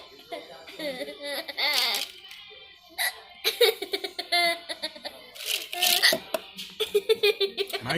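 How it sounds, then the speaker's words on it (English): A child hiccups repeatedly in short, sharp bursts, mixed with laughter and voices talking nearby. "My goodness, that's 4 minutes of hiccups"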